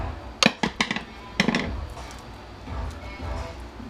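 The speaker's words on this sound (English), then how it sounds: "I'm going to have to use a smaller screwdriver. Get underneath it and pry it out." Screwdriver prying apart a hard wired carbon monoxide detector, two quick bursts of sharp plastic clicks and snaps up close, followed by quieter handling noise.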